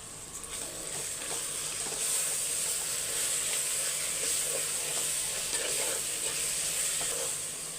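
A curry with curd, chilli powder and mint sizzles steadily in a clay pot while being stirred, with faint scraping strokes over a constant hiss and no talking.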